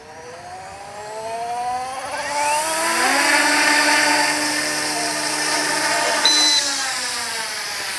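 Rotors of a Yu Xiang Coast Guard UH-60 scale RC helicopter with GPS control spinning up outdoors in some wind, a steady whirring motor whine that rises in pitch and holds loud and close, with no talk.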